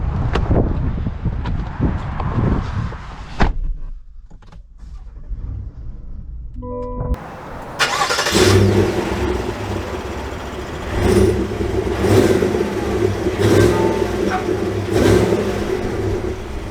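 A 2022 GMC Yukon AT4 full-size SUV engine starts after a quiet pause, then idles and is revved in several loud rising surges, heard close.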